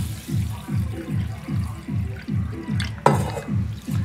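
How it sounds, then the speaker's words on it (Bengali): Water is poured into a bowl of Gobindobhog rice, making a close, rhythmic splashing and gurgling in even pulses, with one brighter splash near the end and no talk. "পরিমাণ মতো জল দিয়ে দিলাম।"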